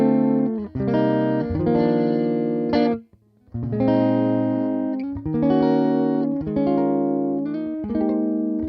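An electric guitar on the humbucker pickup runs through an AmpliTube 5 Fender amp model, strumming bright, sustained chords in a steady rhythm with one brief pause, loud and alone.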